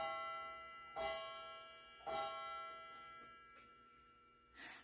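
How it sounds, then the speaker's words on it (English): A home clock chiming ten o'clock in a kitchen, with a few slow, ringing strikes spaced about a second apart, each decaying softly in a quiet room. "Ooh, 10 o'clock. Okay. Y'all hear my chimes?"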